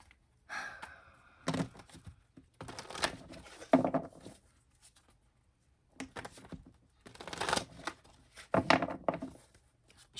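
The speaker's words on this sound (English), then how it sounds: "let's pull some cards here" Tarot cards are shuffled and pulled in several quiet bursts of papery rustling and soft slaps, separated by brief silences, close and intimate.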